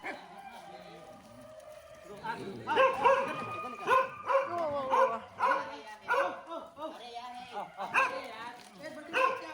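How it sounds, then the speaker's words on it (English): Several dogs in a shelter barking and yipping excitedly at feeding time, overlapping barks and whimpers arriving in irregular bursts, close and moderately loud. "The dogs get excited,"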